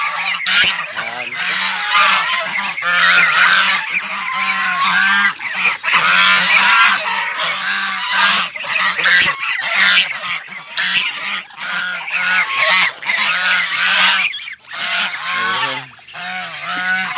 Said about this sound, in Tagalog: gansa yan